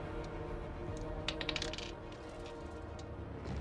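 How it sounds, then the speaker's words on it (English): Dice clatter across a tabletop during a fifth-edition tabletop roleplaying game session: a short burst of hard, bright clicks and rattles rises over a quiet room hum, then settles. "I'm gonna re-roll that dice because it fell on me."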